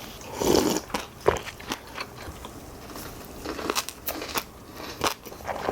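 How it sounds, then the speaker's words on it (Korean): Close-up crunching as someone chews crispy stir-fried anchovies, with irregular crackly bites and no talking. "멸치 냄새 안 나고 바삭바삭한 멸치 볶음"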